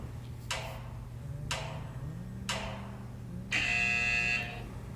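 Three short bursts sound at even intervals, then a longer, louder electronic buzz from a Tabata interval timer rings out over a low steady hum.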